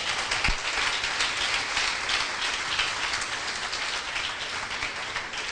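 A church congregation applauds loudly, a dense, steady wash of many hands clapping that fills the whole stretch with no pause.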